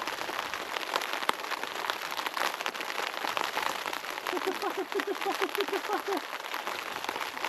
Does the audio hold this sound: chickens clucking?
no